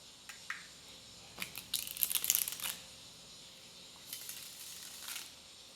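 Papery crinkling and riffling bursts of tarot cards being shuffled, one longer flurry in the middle and a few brief ones later, close and moderately quiet with no talking.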